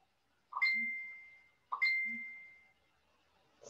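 Two identical phone notification chimes sound about a second apart, each a bright ringing tone that decays slowly, heard alone in a quiet room where a pencil drawing is being made.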